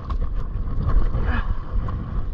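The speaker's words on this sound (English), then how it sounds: "Oh man fighting wind and current right now." Gusty wind on the Tweed River buffets the microphone in low rumbling surges while someone wades against the current, loud and close.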